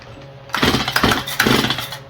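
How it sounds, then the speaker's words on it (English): A Stihl MS171 chainsaw with a carburetor problem sputters as it is pull-started, giving repeated loud rough bursts of engine noise close by, with no talking. "Alright. Fire up again."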